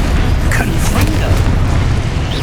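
The Confringo blasting spell in Hogwarts Legacy fires off as a loud, rumbling boom with bursts of crackling debris, the explosions layered over continuous heavy game noise.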